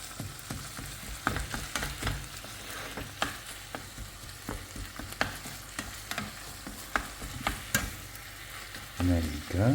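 Ground meat sizzles steadily in a hot pan for a carnivore-style keto dish, with sharp, irregular spatula scrapes and knocks as it is broken up, plus a louder clatter near the end.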